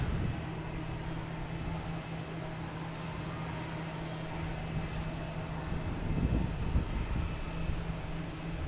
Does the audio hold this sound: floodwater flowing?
no